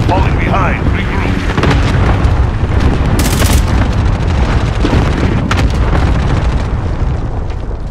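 Airstrike explosions in Call of Duty Modern Warfare: loud, continuous booming blasts and rumbling bursts fill the whole stretch, with a sharp crackling burst partway through and game voice chatter mixed in.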